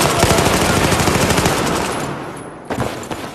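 Rapid bursts of suppressed automatic gunfire in the video game Battlefield 4 crackle loudly and densely for several seconds, briefly break off, then resume.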